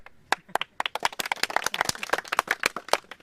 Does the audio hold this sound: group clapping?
yes